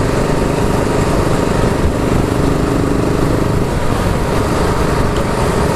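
A BSA Goldstar 650 single-cylinder motorcycle engine heard while riding at an easy pace on rough roads, a steady loud thrumming drone with wind roar that holds constant throughout.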